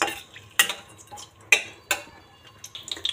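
Cinnamon, bay leaves and cardamom fry quietly in a pan, faint crackling under a few sharp metallic scrapes and taps of a stirring spoon, spaced irregularly, with a quick cluster of clicks near the end and no talking.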